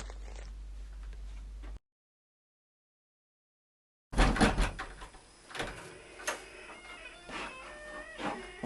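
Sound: door opening and closing

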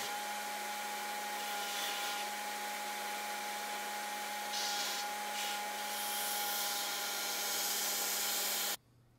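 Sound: grinder shaping a knife handle after epoxy cured

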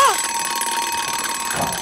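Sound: alarm clock ringing on bedside table

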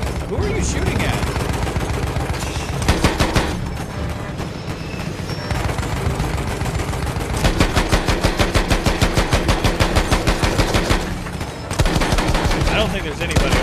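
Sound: gunfire from a vehicle in the video game Battlefield 1

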